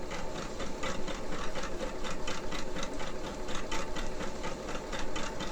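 A sewing machine stitching steadily up close, its needle hammering in a fast, even mechanical rhythm with a low motor hum underneath.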